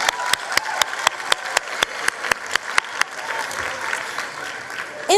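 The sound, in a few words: applause for KwaZulu Natal matric results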